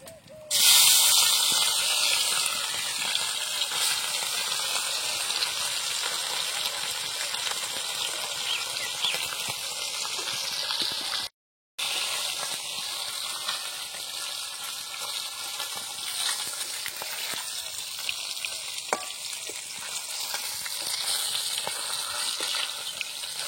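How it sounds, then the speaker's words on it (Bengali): Sea fish, mola, fry in oil for a village-style Bengali curry with potato and eggplant, giving a steady, fairly loud hiss and sizzle that runs throughout with only a brief break. "বাকি যা মাছগুলো আছে সেগুলো আমি একে একে ভেজে নেব"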